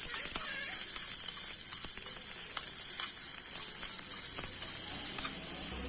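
Chopped onions sauté in a pan with mustard seeds and curry leaves, giving a steady close sizzle with light crackles throughout and no pauses.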